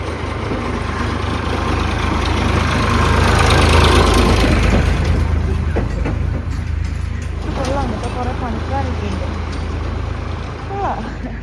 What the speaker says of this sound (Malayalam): ഒരു ട്രാക്ടർ വരുന്നതാണ്